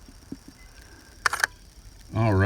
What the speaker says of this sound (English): And then we'll press the shutter button. It's got an automatic 2-second timer.